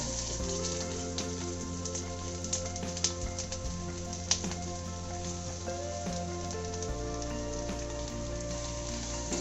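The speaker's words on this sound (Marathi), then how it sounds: "हा कांदा असा जवळत राहायचा आणि चांगला गुलाबी कलरचा होईपर्यंत भाजायचा" Onion frying in a little oil in a kadhai, a soft steady sizzle with a few faint scrapes of stirring, fairly quiet over a low background hum.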